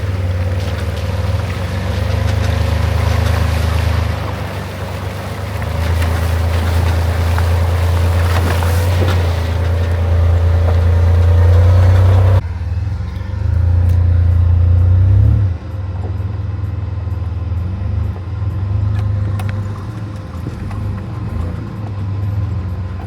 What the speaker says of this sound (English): just to take the L300 around Mount Panorama racetrack